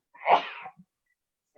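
One close, sharp human sneeze bursts out loud and alone, followed by a faint sniff and then silence.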